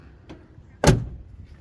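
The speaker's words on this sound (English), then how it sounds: "Door shut nice." A car door shuts once with a single solid thump, close and clear after a faint earlier click, with no talk.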